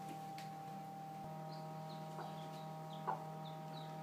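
A broody hen gives soft, faint clucks and low murmurs, scattered and intermittent over a constant background hum.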